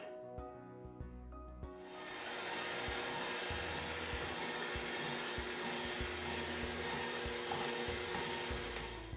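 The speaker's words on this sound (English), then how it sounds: "Now we're gonna cream our butter and sugar, so let me go ahead and add the butter." An electric stand mixer creams butter and sugar for a pound cake, starting after a quiet moment and then whirring as a steady, fairly loud motor drone with a rubbing, churning texture to the end.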